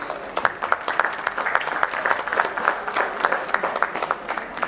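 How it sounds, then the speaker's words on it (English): An audience at a corporate IT summit in India claps steadily in a big round of applause. Many hands patter densely at a moderate distance, with no voices over the clapping. "A huge round of applause, please."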